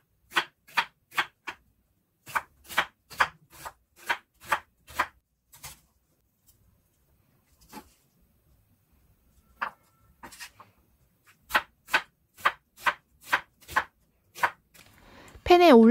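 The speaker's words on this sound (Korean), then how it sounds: "먼저 양파를 얇게 썰어주세요" Onions being thinly sliced with a knife on a cutting board, crisp rhythmic chops in quick bursts with pauses between, close and clear in a quiet kitchen, followed by a brief voice at the very end.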